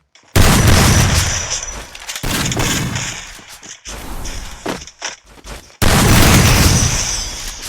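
An M47 shotgun fires in a video game: four heavy, booming blasts spaced about one to two seconds apart, each loud and close with a long rumbling tail.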